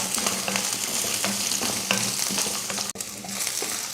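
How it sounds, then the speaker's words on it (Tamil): Onion, garlic, ginger and coconut sauté in hot oil in a kadai, crackling in a loud, continuous sizzle broken by repeated scraping strokes of a spoon and one brief clatter near the end. "கடாயில் எண்ணெய் ஊற்றிட்டு இப்போ வெங்காயம், வெள்ளைப்பூடு, இஞ்சி இதெல்லாம் வதக்கிடலாம்."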